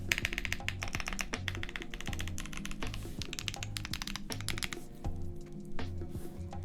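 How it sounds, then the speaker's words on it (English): Rapid typing on a mechanical keyboard with a rattly space bar, a dense close stream of clacks and thocks with repeated deeper space bar hits, no speech over it. "A little rattly. I gotta tune up that space bar."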